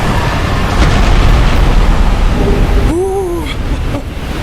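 A deep, loud rumbling blast in the Dark Souls action RPG on PC, a sustained roar with heavy low boom that fades slightly toward the end, with a few short tonal game sounds over it.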